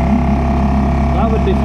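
A Suzuki 2.5HP four-stroke outboard motor idles out of gear with a low, steady throb while someone talks over it close by.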